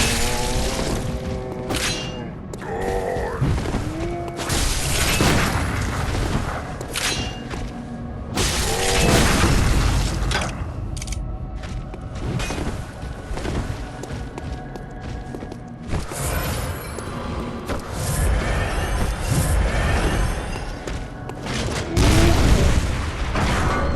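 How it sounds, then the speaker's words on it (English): Cannon shots from a trick weapon boom repeatedly in the video game Bloodborne, heavy blasts mixed with shattering, thuds and footsteps in a busy, loud combat mix. "You can stun enemies using the trick weapon, then finish them off with the blast from the cannon."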